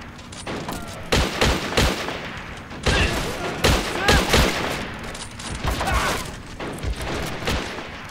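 Sustained gunfire in the AS2 Dynamic Campaign Generator wargame, dense overlapping rifle and machine-gun bursts crackling at mid distance with booming reports, continuous and fairly loud throughout, with no voice over it.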